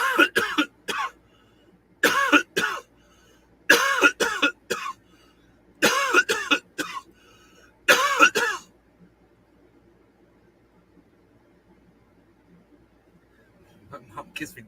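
Several bursts of harsh, close coughing after a big cannabis dab, in clusters over the first half, then near silence with a faint stir at the end.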